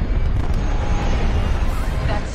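A Star Destroyer blows apart in the Star Wars Battlefront II video game, a loud, continuous rumbling blast with crackling debris that holds steady for a couple of seconds.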